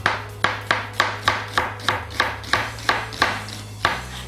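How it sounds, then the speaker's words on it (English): A knife slicing sweet onions on a cutting board for French onion soup, about fifteen crisp, evenly spaced chopping thunks in a quick steady rhythm, loud and close with no voices. "First thing to do is to put a little slice on them."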